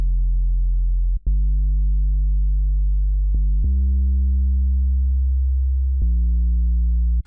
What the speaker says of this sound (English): Let's move on to the bass sound.